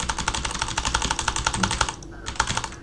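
Rapid typing on a computer keyboard: a close, steady clatter of keystrokes in an even rhythm with no pauses, heard with no voices.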